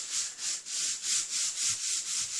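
A folded paper pop-out card rubbed closed by hand, a close, steady swishing in about six even back-and-forth strokes with nothing else heard.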